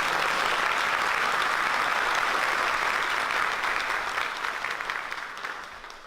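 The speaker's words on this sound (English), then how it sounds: "let's give them one more big round of applause" A school district audience claps in a sustained round of applause for students, steady and dense at first, then thinning and tapering off toward the end.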